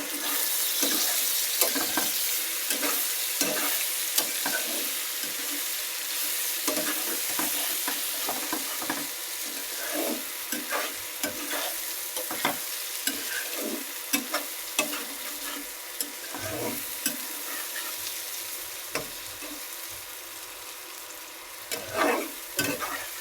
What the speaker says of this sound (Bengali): দেখুন আমার পটলটা ভাজা ভাজা হচ্ছে।